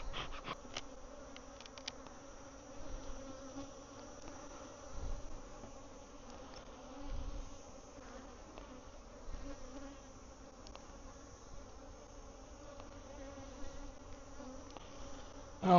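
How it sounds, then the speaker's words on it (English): Bees buzz steadily around a bee yard, a dense, continuous insect hum with individual bees droning closer now and then, with no talking. "A lot of bees up here."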